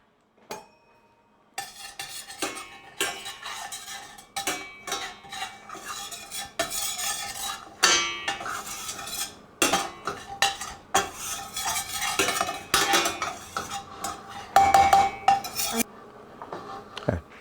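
Curry spice mix toasting in a pan while a utensil stirs and scrapes it: repeated close, brisk scraping strokes with faint sizzling underneath, going on steadily for the whole stretch with no talking.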